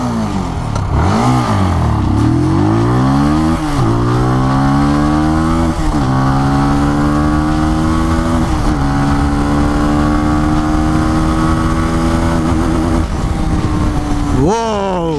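A Benelli 165S naked motorcycle engine revs hard from a standstill in a 0 to 100 run, its pitch climbing through several gear shifts with brief dips between, loud and close throughout.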